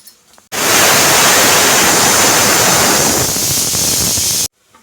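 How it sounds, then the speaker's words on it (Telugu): A kitchen mixer grinder blends a tamarind chutney with a loud, steady roaring whir that runs for about four seconds, then cuts off abruptly. "ఇప్పుడు మిక్సీ ఆడించుకున్నాం. ఇప్పుడు రెడీ అయిపోయింది చట్నీ."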